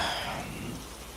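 Steady rain falls at night, a soft continuous hiss of drops with a faint low rumble beneath, fairly quiet and even throughout, with no voices.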